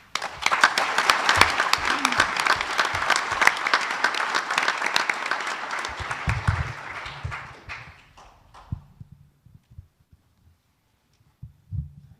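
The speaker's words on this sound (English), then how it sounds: "Let's give another round of applause to Klein High School" Applause from the audience at a Klein ISD school board meeting for Klein High School, steady dense clapping for about eight seconds that fades out, followed by a few low thumps and near silence.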